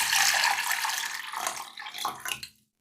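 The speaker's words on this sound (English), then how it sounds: "The water started boiling." A pot of water boiling on the stove for a Japanese chicken soup gives a rushing, bubbling hiss that thins into scattered pops before cutting off abruptly.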